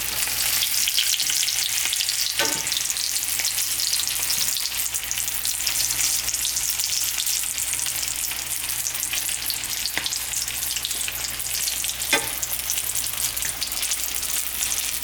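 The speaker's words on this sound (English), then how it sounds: "Then you can fry the rest." Spring rolls frying in hot oil give a steady, bright sizzle that holds evenly from start to end, with a few soft clicks or stirs breaking through and no talking.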